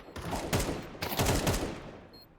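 Rapid bursts of gunfire ring out in a Counter-Strike match, two dense volleys of close shots about half a second apart, fading into a quieter tail.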